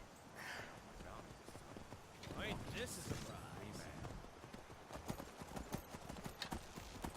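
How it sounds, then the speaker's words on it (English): Summoned horse in Skyrim, hooves clip-clopping in a steady rhythm at low level, with someone talking over the top. "I can just summon my horse every time I need it."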